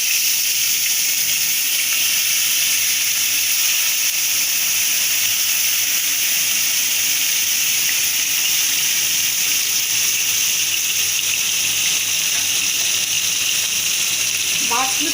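Pieces of rohu fish fry in hot mustard oil, making a loud, continuous close-up sizzle and hiss that carries on evenly throughout.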